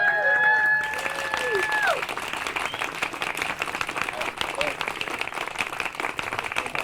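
Audience at a comedy show in a brewery bursts into applause as the comedian is introduced, dense sustained clapping that follows the tail of a voice over the sound system and stays loud throughout.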